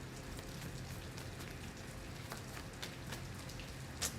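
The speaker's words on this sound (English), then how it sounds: "Wow, look at that rain." Steady rain patters down on surfaces outdoors, a soft continuous hiss of many drops with a few sharper isolated drips, faint and alone with no voices.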